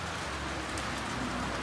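Rain falling steadily on surfaces outdoors, a dense even hiss of drops with no break, fairly close and without any voices.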